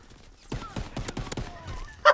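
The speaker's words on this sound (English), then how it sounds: "that headshot sound, like, it honestly can't get any better" A headshot hit in Call of Duty WW2 during an M1 Garand match, a series of quick clattering game impacts and thumps, then a short bright metallic ping at the very end.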